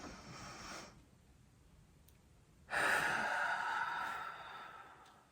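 A single close, deep breath comes in quietly, then a long, louder exhale is let out, with faint room noise in the pauses.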